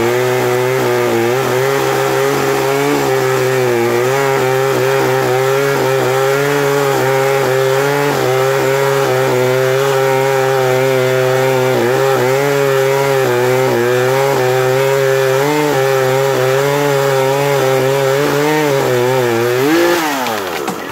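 A chainsaw cuts through wood nearby, its loud buzzing whine holding steady and wavering slightly as it bites in, then dropping off sharply at the end of the cut, with no talk.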